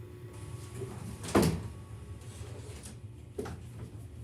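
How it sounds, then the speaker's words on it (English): Doors in a basement room being pulled shut, two knocking thuds about two seconds apart over a steady low hum from a running heater. "hold on 1 second while I go shut those doors"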